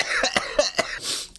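A man with a week-long cold coughs in a scene from the 1996 film Fargo, several harsh close coughs in a rough burst followed by a raspy breath.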